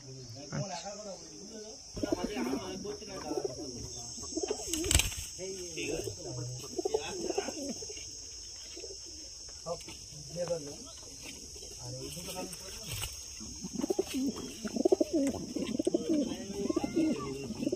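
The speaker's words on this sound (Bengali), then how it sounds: "এই দুটো খুব সুন্দর পায়রা।" Pakistani golden pigeons coo in soft repeated throaty phrases, close by and moderately loud, with a steady high insect-like hum behind them.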